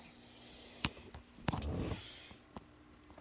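Crickets chirping inside a pet enclosure: a steady, rapid pulsing trill close by, broken by a couple of soft knocks and a brief rustle, with no talking.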